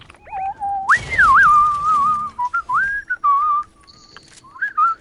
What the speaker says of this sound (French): Je sifflote, hein, les gars.